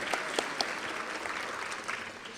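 Audience at a Los Angeles County quality and productivity awards event applauding, a dense, steady wash of clapping from a moderately sized crowd with a few sharper claps standing out near the start.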